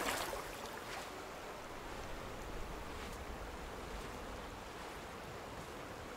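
Water flows steadily in Samurai Jack: Battle Through Time as a constant rushing wash, like surf or wind, steady and unbroken for the whole span.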